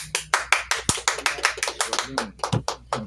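Hands clap in a quick, steady rhythm at a gathering where lawyers salute a prime minister. The claps sound close and fairly loud, with voices audible underneath.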